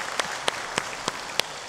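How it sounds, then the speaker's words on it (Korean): Church congregation at a Sunday daytime worship service applauding to welcome a new member: a soft, steady patter of many hands clapping, heard from a distance, with no speech over it. "박수로 환영하겠습니다."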